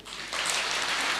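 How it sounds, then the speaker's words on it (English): Brief burst of applause at an early childhood development conference, a crowd's clapping that swells suddenly and holds loud and dense for about a second. "If it's in order, another clap for Helena."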